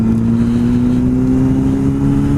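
Motorcycle engine revving steadily, loud and close, with a smooth rising drone as it pulls through an upshift into second gear.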